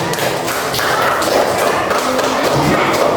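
A classroom group applauds for the first team, a dense, sustained patter of many hands clapping at once, fairly loud and close, with faint voices mixed in.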